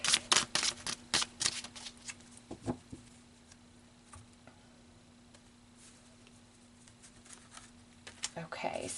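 Tarot cards slide and snap off a deck in a quick burst of crisp flicks and taps up close, followed by a quiet pause, then a few more card rustles at the end.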